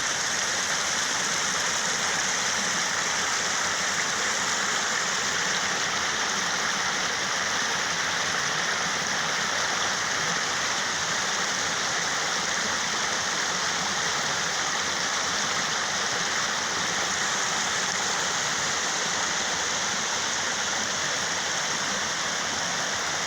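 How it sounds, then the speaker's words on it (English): A stream in the Cwmpedran area of Pembrokeshire, West Wales, rushes down a hillside, a steady loud broadband roar of tumbling water that holds unbroken and close with no voices. "That stream is racing down the hill to join the Pedran"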